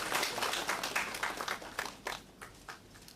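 Conference audience clapping to welcome a speaker at a national law conference, quiet and somewhat distant, individual claps distinct in an uneven rhythm that thins out toward the end.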